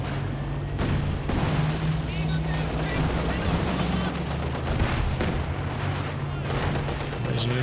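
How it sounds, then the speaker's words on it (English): Booming anti-tank Overwatch artillery barrage and gunfire in Company of Heroes 2, with engine drones and overlapping blasts running throughout under a commentator's voice. "another anti-tank Overwatch looking to force back these Axis tanks"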